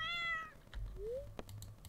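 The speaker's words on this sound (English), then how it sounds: "The cat is in the bed waiting." A cat in the video game Stardew Valley gives a clear, close meow, followed by a shorter rising meow and a few soft clicks, with no talk.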